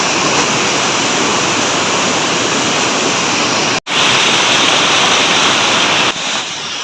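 Loud, close rush of river water flowing near Tumabo Falls, a dense, unbroken roar of churning current, with one abrupt momentary dropout and a slight drop in level near the end; no talking.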